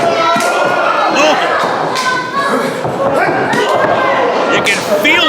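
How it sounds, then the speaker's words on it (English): Kicks landing on a wrestler's chest in a live wrestling match give dull, heavy thuds that are hard to pick out beneath a loud, constant crowd roar and talk. "You can hear the dull thud from the rib cage, the chest cavity."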